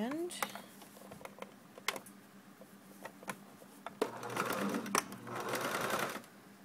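A sewing machine stitches a sweater cuff with a thumb hole. Scattered mechanical clicks lead into a few seconds of close stitching whir, with talking alongside.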